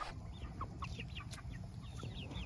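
Several of thirteen backyard chickens cluck in short, scattered calls at moderate distance over a steady low outdoor rumble, with no voices present.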